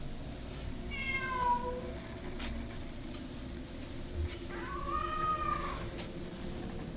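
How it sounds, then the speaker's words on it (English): A distressed cat meows twice in the video game Kentucky Route Zero, drawn-out pleading cries a few seconds apart over a low steady background hum. "Kitty sounds distressed."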